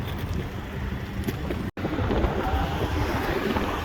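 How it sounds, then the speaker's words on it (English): Wind gusts over an outdoor hiking trail and buffets the microphone in a dense, steady roar, broken by one brief dropout, with no talking. "Windy."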